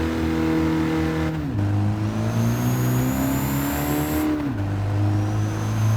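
Mercedes Unimog truck with a 6-speed transmission in Gran Turismo 7, its loud engine revving steadily with a whistling turbo whine, dropping in pitch at two gear changes, continuous and close.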